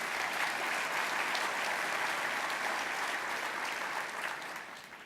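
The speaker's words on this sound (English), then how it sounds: "Give yourself another round of applause." Steady, dense applause from a large audience at a State of the City address, holding level throughout and tapering slightly at the end.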